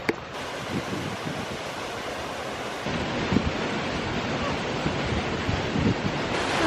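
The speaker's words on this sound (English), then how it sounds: "Beautiful waterfall." Steady rushing water from a small hidden waterfall, a continuous broadband roar with gusts of wind noise, heard alone without talk.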